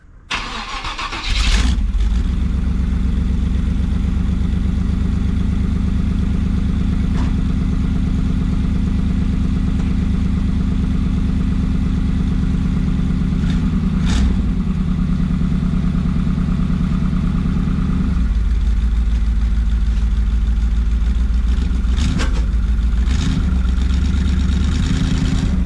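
A 3rd gen Pontiac Firebird with TBI cranks and fires up, then settles into a loud, steady idle nearby; the engine note shifts partway through, as if revs change, and it keeps running to the end.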